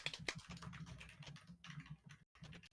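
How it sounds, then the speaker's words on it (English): Rapid, irregular clatter of keys on a computer keyboard, fairly distant and steady over a low background hum, with one brief pause near the end. "Loud typing noises can be heard in the distance."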